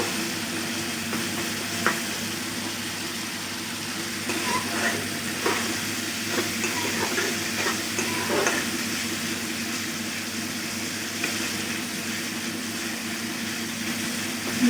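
Mustard seeds frying in oil in a pan for an okra dish give a steady, broadband sizzle throughout. A few soft clinks and stirring scrapes sit on top, with a low hum beneath and no talking.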